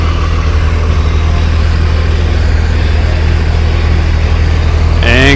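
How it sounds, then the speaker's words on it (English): A Jackson Fire Department fire engine, engine 1407, rolls through an intersection in a Fourth of July parade, its steady low engine drone loud and close, with a brief squeal near the end. "And coming in the intersection is another fire engine from the Jackson Fire Department."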